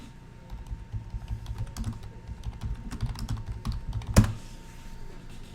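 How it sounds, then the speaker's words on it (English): Keys clatter in quick irregular bursts as someone types on a computer keyboard during an online Magic: The Gathering Modern match, with one sharp louder knock near the end. "Actually, I do want to type a message."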